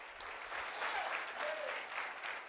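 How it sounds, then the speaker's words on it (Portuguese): A church congregation claps together during a Portuguese-language service, producing a dense, steady round of applause that swells slightly in the middle and fills the room without any clear speech. "vamos dar uma salva de palmas para Ele"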